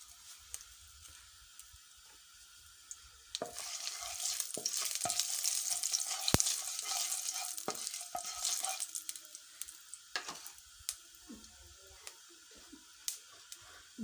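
Cumin seeds sizzle and crackle in hot ghee in a karahi after potatoes were fried in it, with a steady frying hiss that swells partway through, along with occasional stirring clinks.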